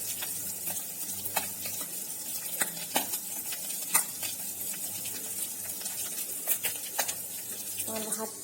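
Fish fry in a wok on a home kitchen stove, giving a soft continuous sizzle broken by sharp spatters and scraping stirs, fairly quiet and close.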